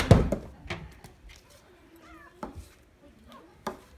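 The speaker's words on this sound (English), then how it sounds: "I need you to help shoo away the kitties" Several short, faint cat meows sound in the background of a kitchen where chicken is being shredded, with a loud clatter at the start and occasional clinks.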